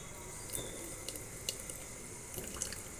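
Water trickles and drips into a jar during a home science experiment with a straw, a soft steady flow with faint splashy ticks, fairly quiet and close.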